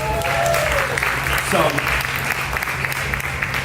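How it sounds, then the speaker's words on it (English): An audience at a Chicago food festival claps in a steady round of applause for the speaker's mother, with someone talking briefly over it. "Give her a round of applause."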